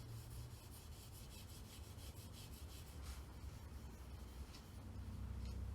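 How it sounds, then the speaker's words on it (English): Steel wool rubs back and forth along the metal window trim of a Saab 900, a faint, continuous scratchy scrubbing with no voices. "Just take a little bit of care to make sure we get the steel wool into the small groove on this trim."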